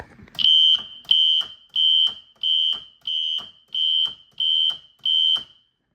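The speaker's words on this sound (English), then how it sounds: "this is the most basic you can really ever get with the fire alarm system. It's literally just a Classic." A Classic 4-wire fire alarm horn strobe sounds in march-time coding: eight loud, piercing, buzzy blasts, each about half a second long and evenly spaced by short silences, heard alone with no talking.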